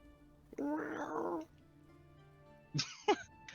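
A person imitates a cat's meow with a drawn-out, voiced mew, followed a second later by a couple of short, sharp vocal bursts; all fairly close and moderately loud against a quiet room.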